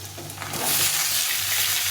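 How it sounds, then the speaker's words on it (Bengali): Pointed gourd and ridge gourd pieces dropped into a hot oily pan, swelling into a loud dense sizzle with stirring, close and with no talk. "এখন আমি পটল আর ঝিঙেগুলো দিয়ে দেবো।"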